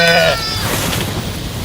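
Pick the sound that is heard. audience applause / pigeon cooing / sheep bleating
sheep bleating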